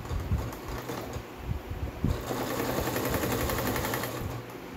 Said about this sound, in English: a little zigzag stitch on the edge that will hold the edge in place so it wouldn't ravel any more than it has already raveled